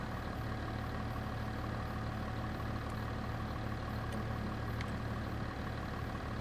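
A GPS-guided farm tractor engine drones steadily at a constant idle in a field, a low continuous rumble with a few faint clicks and no talking.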